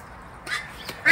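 Ducks on a farm being bathed, giving a couple of short nasal quacks near the end of a quiet stretch, with one brief call midway.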